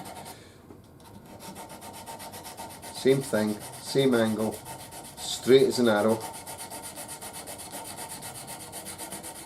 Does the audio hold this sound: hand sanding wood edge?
yes